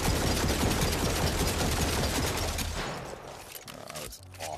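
Rapid dual-wielded gunfire in the VR shooter After the Fall, a loud dense fusillade of shots aimed at a target, continuous for nearly three seconds before cutting to quieter scraping and a final faint shot.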